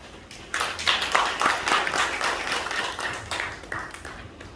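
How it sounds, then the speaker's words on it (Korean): An audience applauds to welcome a speaker at a founding ceremony, a burst of many hands clapping that starts sharply, stays dense and steady, then thins toward the end, close and alone without talk. "박수로 환영해 주시죠"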